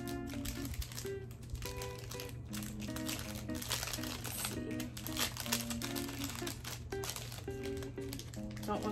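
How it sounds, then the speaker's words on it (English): Packaging around a Sentro knitting machine crinkles and rustles in steady, close bursts of plastic handling, under a constant low hum and faint background music. "Let me unwrap this right here."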